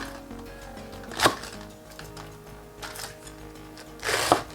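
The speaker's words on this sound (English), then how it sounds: "Slice the cabbage in half." A knife slices through a green cabbage on a cutting board, a few crisp crunching cuts spaced apart, close and fairly faint against a quiet kitchen.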